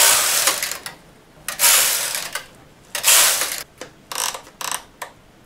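Knitting machine carriage working off-white yarn, heard as loud mechanical clattering sweeps in repeated passes, some longer and some short, with quiet gaps between them.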